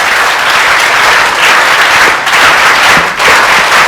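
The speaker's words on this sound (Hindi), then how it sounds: "तालियां बजती रहनी चाहिए।" Loud, sustained applause from a large audience at a motivational talk, dense continuous clapping with no pauses across the whole stretch.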